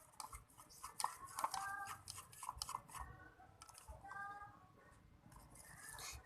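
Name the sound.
mixing no-glue slime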